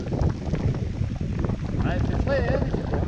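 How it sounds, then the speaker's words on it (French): Wind rising over an open mountain bike circuit in Iraty buffets the microphone in a steady, close, blustery roar, with faint higher tones drifting through near the end. "Il y a le vent qui s'est levé là."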